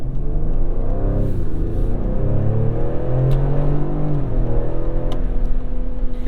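A 2021 Ford Explorer ST engine revs loudly on a test drive, its note rising and falling through several surges over a steady, close-miked rumble, with no talking.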